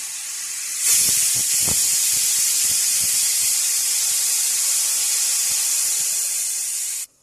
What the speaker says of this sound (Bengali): এবারে গ্যাসে বসিয়ে একটা সিটি দিয়ে নেব